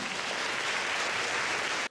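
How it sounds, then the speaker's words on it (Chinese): Loud, dense audience applause after a live performance, sustained for nearly two seconds before cutting off abruptly. "请再次给他们热烈的掌声好吗"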